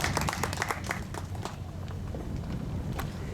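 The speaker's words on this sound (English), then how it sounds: "let's give a round of applause for our seniors" High school choir seniors receive applause from the crowd at a Port Jervis, NY Flag Day event, a soft, fairly distant patter of clapping that thins out over a few seconds.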